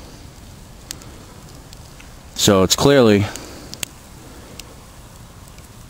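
A very small winter fire burns inside a canvas tarp tipi, giving faint, sparse crackles and pops over a soft steady hiss, with someone speaking briefly partway through.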